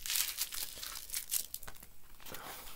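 A shipping parcel's plastic and paper packaging crinkles and tears in quick, close bursts as it is opened by hand. No one speaks.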